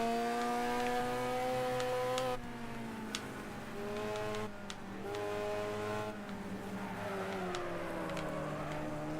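A race car with a 1.6 liter engine in the game Wreckfest revs and whines, climbing in pitch and then dropping at each gear change several times, loud and close throughout.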